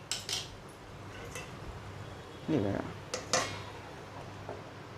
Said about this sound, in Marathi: आता आपण ह्यावरती झाकण मारून घेऊया